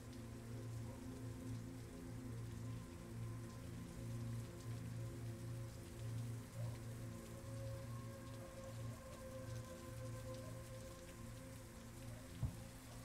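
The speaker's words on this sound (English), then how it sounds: "Why is it raining?" Steady rain falls in the Rouge Noir video game, a constant even hiss of drops on a surface with a low droning tone underneath, continuous for the whole stretch with one brief bump near the end.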